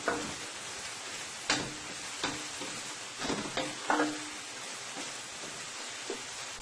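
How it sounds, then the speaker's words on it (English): Vegetables sauté in a pan for a provision and stew chicken dish, giving a steady hiss of sizzling with several sharp stirring scrapes and clinks at irregular intervals. "I'm going to let this saute for about 3 minutes until it's nice and caramelized"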